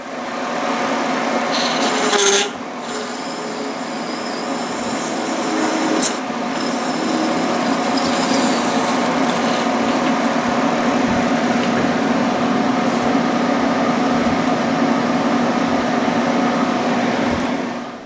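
A bowl gouge cuts Delrin on a spinning lathe, giving a steady, close, continuous scraping hiss over the motor hum, with a brief sharper catch around the two-and-a-half-second mark.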